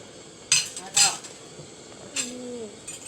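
A spoon stirs beef green curry with cumin leaves in a pot, giving a few close metallic clinks, two sharp ones early and a softer one later, while a voice talks quietly.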